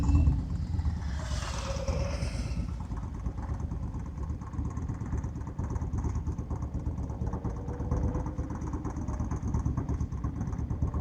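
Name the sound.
motorcycle engine idling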